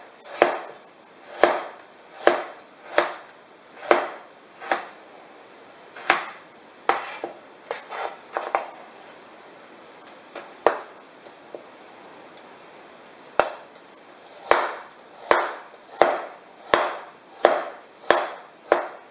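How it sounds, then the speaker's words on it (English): A meat cleaver chops partly frozen food on a cutting board, delivering loud, regular thwacks in steady runs, pausing midway for a few lighter, scattered knocks before the rhythmic heavy chops resume. "This one's a little bit more frozen, but nothing that the cleaver can't handle."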